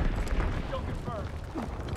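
Enemy bomb blasts in the Call of Duty WW2 video game, a deep sustained rumbling eruption with low booming energy, fairly quiet and mixed with battlefield clutter and faint voice-like tones.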